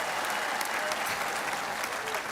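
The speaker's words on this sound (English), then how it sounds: "let's give them a round of applause" Dense, steady applause from a large outdoor crowd at the Knicks NBA championship parade, a continuous wash of clapping lasting the whole moment with no clear pauses.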